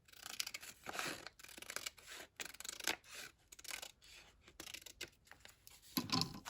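Paper trim for a file folder is snipped with scissors in a string of close, crisp cuts and rasping slides, quiet and steady with short gaps between strokes.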